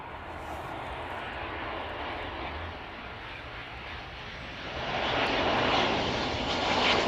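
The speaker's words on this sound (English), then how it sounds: "A smooth touchdown from the Ryanair" A Ryanair airliner touches down on the runway at East Midlands Airport on a gusty evening. Its broad jet roar rumbles steadily and swells louder toward the end.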